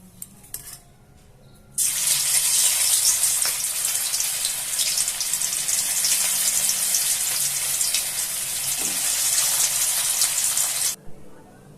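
Cabbage-and-egg pieces for a dhokar dalna fry in hot oil in a wok on a gas stove, a loud, steady broadband sizzle that starts abruptly after a quiet opening and cuts off near the end, with no talking.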